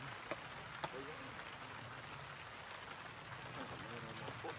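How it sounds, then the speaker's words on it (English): Steady rain falls at a campsite, a soft continuous hiss with a couple of sharper drop taps, fairly faint and even throughout. "what was just a nuisance drizzle has become a rain"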